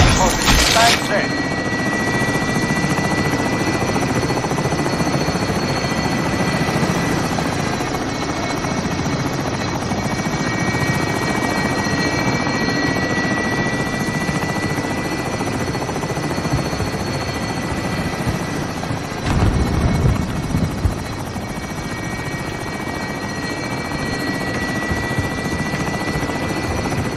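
Helicopter rotor in Call of Duty Modern Warfare, a loud, continuous thudding drone that fills the whole stretch, with a brief burst of noise at the start and another midway.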